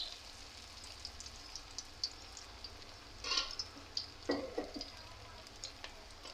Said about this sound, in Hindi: एक कढ़ाई में ऑयल गरम करते हैं और उसके अंदर 1 बाय 1 फ़िश के पीस फ्राई करते हैं।